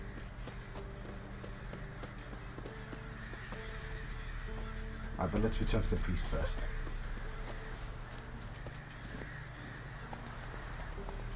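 A horse in The Witcher 3 gives a loud whinny midway, with steady galloping hoof clip-clops throughout and in-game ambience underneath; someone speaks briefly near the start.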